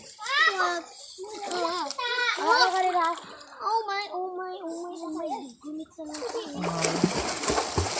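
Children splash and play in water, sloshing and splattering close by while their high voices chatter and call out over it, with a burst of louder splashing toward the end.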